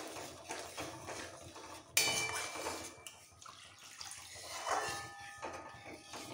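Water used to rinse a mixer jar is poured into a pan of spinach paneer gravy, a quiet splashing trickle with a sharp clink of the jar against the pan partway through, then more gentle pouring.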